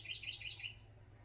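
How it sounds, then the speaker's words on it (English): A small bird chirps in a quick run of bright repeated tweets for under a second, then stops, over a steady low background hum. "Dang bird."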